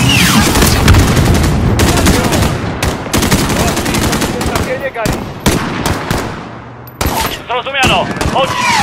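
Dense, loud gunfire from the video game Call of Duty Modern Warfare: rapid machine-gun bursts and overlapping shots with occasional booms, nearly continuous, with brief gaps and some voices mixed in.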